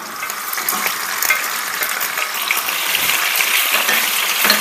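Chicken feet with garlic sautéing in a pan, a busy close crackle of frying with scattered sharp ticks and scrapes from stirring, steady and fairly loud throughout.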